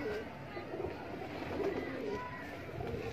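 Laal Pari breeder pigeon pair cooing in a low, continuous murmur close by, with someone talking over the calls throughout.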